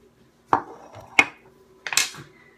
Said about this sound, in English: I'm just gonna strain it out easily with this wooden spoon